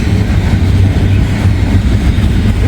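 Close and loud, an eastbound intermodal freight train goes by in a steady rush of rumbling wheels and rattling cars, with faint clickety-clack and nobody talking.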